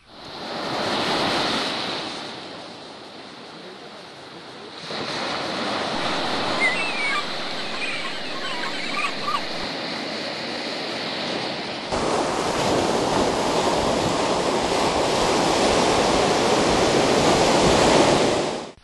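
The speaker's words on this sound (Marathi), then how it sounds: "लाटांचा मारा तंबोल्याच्या कड्यावर नेहमीच होत असतो." Sea waves pound against a tombolo cliff in a continuous, heavy roar of surf that swells louder toward the end, with some wind buffeting and no voices.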